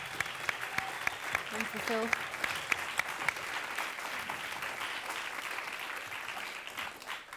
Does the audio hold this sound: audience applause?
yes